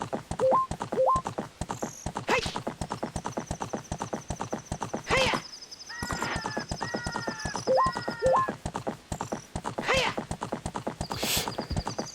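A horse's hooves clip-clop at a quick galloping rhythm in a Zelda video game, with occasional whinnies and snorts and synthetic game-like effects layered over the steady hoofbeats.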